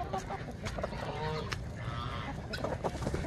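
Guinea fowl on a farm make harsh, repeated calls at moderate distance, mixed with other poultry noise over a steady background hum.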